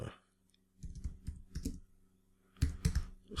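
Someone types on a computer keyboard in a quiet room, producing a few short clusters of soft, close keystroke clicks separated by brief pauses.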